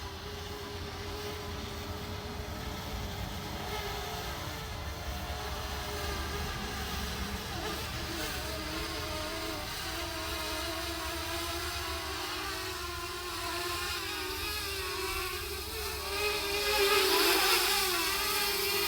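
Camera drone descending to land, a steady close buzzing propeller drone with a constant tonal hum that swells slightly louder near the end, with no talking.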